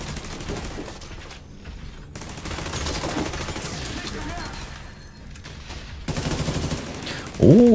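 Sniper gunfire in The Division 2, a game battle scene with repeated shots and bursts of gunfire mixed with dense combat noise, fairly loud, with some speech heard in the mix.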